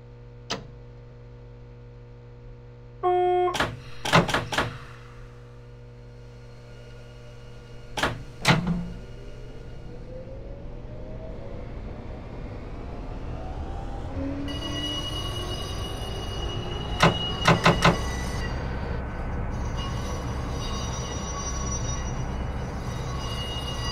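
A Tokyo Metro 07 series train on the Minato Mirai Line in the BVE5 simulator hums at a standstill with door chimes and clunks, then pulls away, its motor whine rising steadily under continuous running noise.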